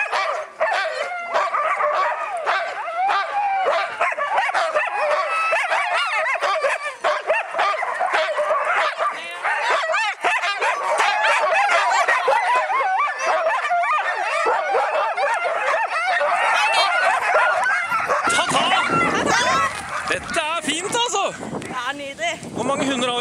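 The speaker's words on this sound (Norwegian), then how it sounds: "og de har masse bikkjer, se her" A team of about ten strong racing sled dogs barks and yips loudly and almost nonstop, close by, with overlapping high yelps and whimpers in a dense, excited chorus.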